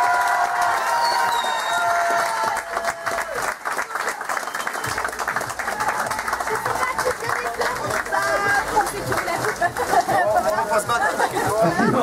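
A crowd at the finish of the Rallye de la Suisse Normande applauds and cheers the arriving rally crew, with sustained dense clapping and shouts throughout while an announcer talks over it.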